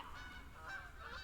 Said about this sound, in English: these are Canada geese